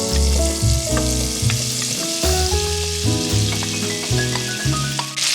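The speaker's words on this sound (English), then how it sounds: "I'm gonna add a couple of tablespoons of butter to a hot skillet. And now let's just add in our potatoes" Potatoes fry in butter in a hot skillet, a loud, close, continuous sizzle with stirring clatter and scraping throughout.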